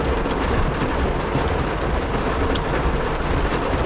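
Heavy rain pours steadily and loudly around a Jaecoo J7 SHS hybrid car, a dense, unbroken roar with no speech.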